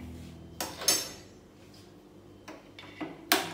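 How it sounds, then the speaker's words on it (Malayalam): Lighting a gas stove to cook in a clay pot in a home kitchen: a few sharp clicks and clatters, two or three distinct bursts, over a faint steady low hum, with no talking. "സ്റ്റൗ കത്തിക്കാൻ പോവുകയാണ്."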